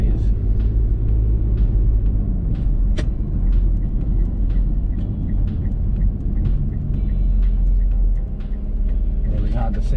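A car driving along a local neighbourhood street with a 50 speed limit, giving a loud, steady low engine and road rumble from inside the cabin throughout, with faint ticks above it.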